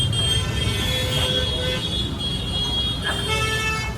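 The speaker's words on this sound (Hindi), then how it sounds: "ये देखो काफ़ी ज़्यादा ट्रैफिक है यहाँ पे।" Busy road traffic on an Indian street lined with food shops, a dense continuous roar with car horns tooting through it, loud and close throughout.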